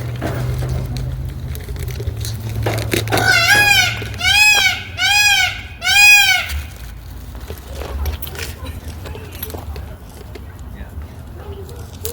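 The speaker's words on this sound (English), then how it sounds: "Do you want to try to feed the sheep?" Several loud bleats from a nearby sheep at a wildlife sanctuary in quick succession, with rustling and movement sounds before and after.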